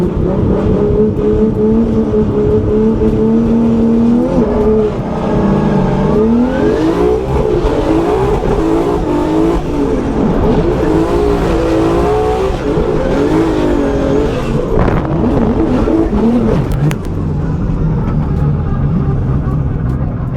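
A BMW E36 drift car at a Formula Drift event runs hard on throttle, its engine loud and close, revs climbing and dropping through gear changes, with tire squeal layered over it. A sharp break near the end cuts the engine note.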